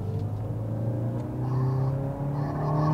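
The combustion engine of an Opel Astra GSe hot hatch revving, a steady close drone that climbs gradually in pitch and loudness as revs build over a few seconds, with no talking.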